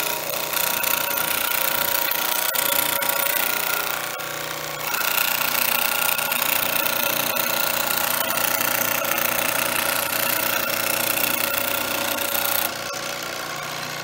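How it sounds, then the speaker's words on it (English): An old Craftsman band saw runs continuously, a steady, loud mechanical hum and whir close by, with a brief dip in level partway through and no talking. "What a nice little saw"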